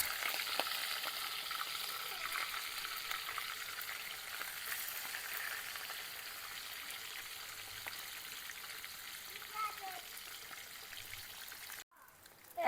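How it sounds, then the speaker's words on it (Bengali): Fish heads frying in hot oil in a village kitchen wok, a steady close sizzle with faint crackles throughout and a brief dropout near the end. "প্রথমেই মাথাটা দিয়ে ভেজে নেব।"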